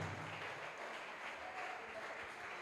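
Applause from a congregation at a church service, a quiet, continuous and even rustle of many hands clapping that sounds distant and steady throughout, with no talking over it.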